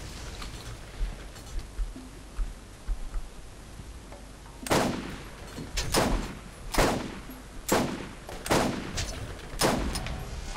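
Sniper rifle gunfire in Borderlands: after a quieter stretch, six or seven loud, sharp shots ring out at roughly one-second intervals, each followed by a brief decaying tail.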